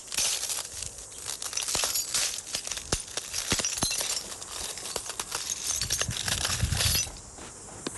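Bare feet crunch over a bed of real broken glass during a glass-walking demonstration on a TV morning show, with dense, irregular clinks and crackles of shifting shards that ease off near the end.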